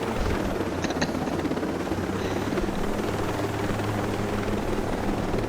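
A helicopter in the video game Ghost Recon Breakpoint, a steady low rotor thrum and engine whine holding at constant loudness throughout, close and continuous.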